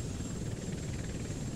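A helicopter in the video game Front Mission 1st Remake gives off a steady, dense rotor and engine roar that holds evenly through the whole moment, with no talk over it.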